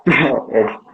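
A dog gives two loud, close barks in quick succession, the first stronger than the second.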